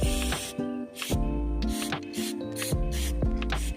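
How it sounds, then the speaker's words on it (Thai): Spray paint hisses from a can onto the trunk of a durian tree, in a series of short, loud, close bursts with a steady, uneven rhythm. "นี่ก็พ่นสเปรย์เลย"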